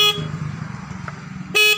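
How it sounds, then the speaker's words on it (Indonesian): A vehicle horn sounds in two short honks, one at the start and one at the end, with a low engine idle in between, close and clear. "Jadi saya akan tes klaksonnya"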